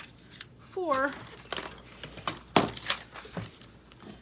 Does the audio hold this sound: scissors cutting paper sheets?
yes